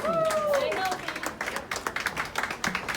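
Hospital staff lined up in a hall cheer and clap for a recovered patient going home, a dense patter of hand claps running throughout with voices and a sung or whistled tone rising over the start.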